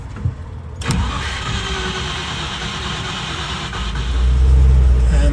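A 1980 Land Rover Series III 109 with a V8 engine cranks and catches, then settles into a steady, loud idle close by, the engine note swelling slightly near the end.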